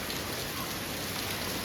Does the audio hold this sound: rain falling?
yes